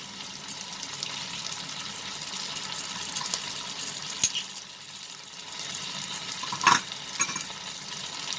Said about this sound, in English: saute it till the onions become slightly translucent. Now we are going to add the ginger and garlic paste.